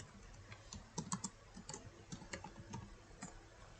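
Keystrokes on a computer keyboard, a quiet, irregular run of clicks and taps close by with no voices.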